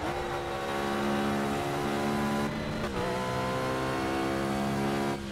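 Race car engine in the Project Cars video game holding a steady high-pitched drone at speed through a lap, with a brief dip in pitch midway as if shifting, then rising again, loud and continuous.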